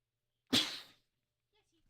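A single sharp sneeze, sudden and fairly close, fading within half a second in an otherwise quiet room, with a faint breath or movement at the end.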